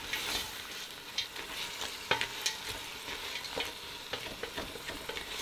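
A spoon scrapes and stirs across the bottom of a pot as lobster and vegetables cook down, their released juices loosening browned bits; a steady sizzle runs underneath with intermittent scraping strokes, close and moderately loud, no voices.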